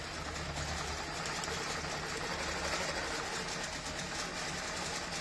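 A sewing machine runs continuously while quilting a scallop design along a ruler, a steady close mechanical whir with fast stitching vibration and no pauses or voices.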